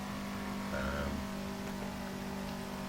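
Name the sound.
race car engine in a video game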